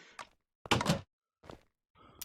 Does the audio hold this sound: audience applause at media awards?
no